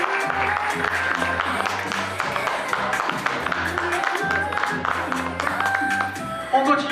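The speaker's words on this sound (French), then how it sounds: "On peut l'applaudir bien fort" Audience applause at a men's, women's and children's fashion show at an events fair in Metz, a dense crackle of clapping running under loud rhythmic music, with a voice briefly heard over it.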